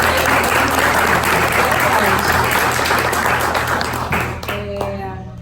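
Dense, loud applause from a church congregation at a service in Niterói fills the space steadily, then thins and fades out near the end.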